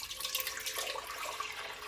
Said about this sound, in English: So I'm going to add the grape juice with the calcium water